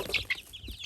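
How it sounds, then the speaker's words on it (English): Short clucks from a guinea fowl and chicken crossbreed at a small poultry farm, a few quick calls close by. "this is like an interbreed of the guinea fowl and the chicken"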